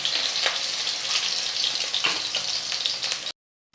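Potatoes frying in oil over a medium gas flame until browned, for a local chicken curry: a steady, close, bright sizzle with small crackles that stops abruptly near the end.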